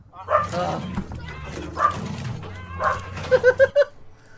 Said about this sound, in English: My dog's barking or something.